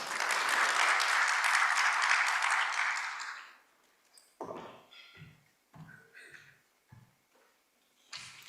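Audience applause welcoming a speaker at the opening session of a technology conference, a loud sustained round of clapping for about three seconds that fades out, followed by a few brief sounds and quiet gaps.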